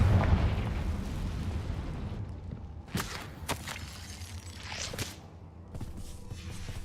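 Confringo fire spell explosions in Hogwarts Legacy, a deep rumbling blast followed by several sharp booming bursts at irregular intervals, loud and close.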